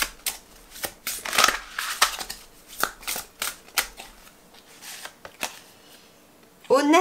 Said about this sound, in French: j'ai bien envie d'aller aussi tirer une carte des chakras pour terminer